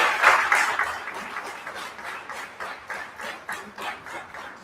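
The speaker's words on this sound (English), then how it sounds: "Dr.Sri.Somanath, former chairman of ISRO, with a big round of applause." An audience at an evening lecture on spirituality and science applauds to welcome a former ISRO chairman, a broad wash of many hands clapping that starts strong and gradually thins and fades over a few seconds.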